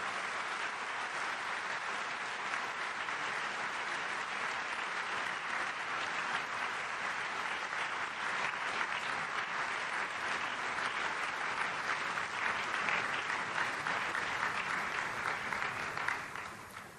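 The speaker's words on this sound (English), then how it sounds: "A big round of applause, ladies and gentlemen." An audience at a commercial law lecture function gives a long, sustained round of applause: many hands clapping in a steady, dense roar that swells slightly near the end before cutting off.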